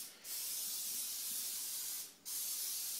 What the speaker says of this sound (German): Oder ich habe hier auch zum Sprühen etwas sogenanntes Trennfett